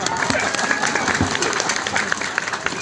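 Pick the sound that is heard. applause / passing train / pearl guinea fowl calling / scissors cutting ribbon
applause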